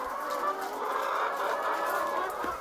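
Hens cluck and murmur together in a crowded poultry shed, a dense continuous chorus of mid-pitched calls heard up close without speech.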